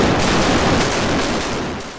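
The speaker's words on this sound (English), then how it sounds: "In one giant barrage, the Minerve was blasted to pieces and began to sink" A warship's cannon barrage bursts out in a dense, loud, rumbling salvo of overlapping blasts that slowly fades at the end.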